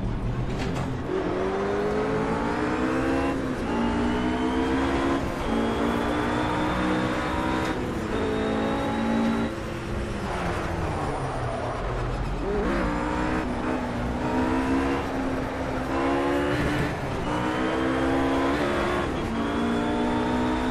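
A RUF RGt-8 GT3 race car engine in the Project Cars racing game, driven with a G27 steering wheel, revs hard through rising gear pulls and shifts with brief dips. It is loud and continuous, with occasional tire squeal.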